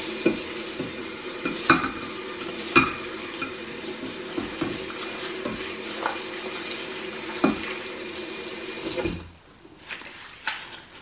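Freshly harvested rosemary is washed by hand in water, with steady sloshing, stirring and occasional clinks against the container. The activity goes quiet near the end.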